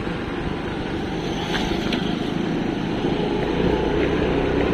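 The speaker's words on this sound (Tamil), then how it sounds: "ஆவின் பாலெல்லாம் போயிட்டுருக்க பால் வண்டி எல்லாம்" Aavin milk delivery vans passing on a street in the early morning, a loud continuous engine and road rumble that holds steady throughout, with no talking.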